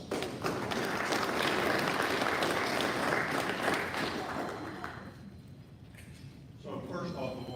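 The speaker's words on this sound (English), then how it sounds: "Please give him a round of applause." Audience applause rings out at a Norman Rotary club meeting for a past district governor, dense and steady for about five seconds before thinning, with a brief swell again near the end.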